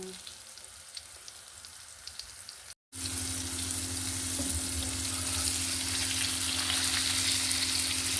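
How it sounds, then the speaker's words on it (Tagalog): Tofu frying in hot oil in a home kitchen: after a brief cut, a loud, continuous sizzle and crackle fills the clip close by, with faint stirring under it and no talk. "prito muna tayo ng tokwa"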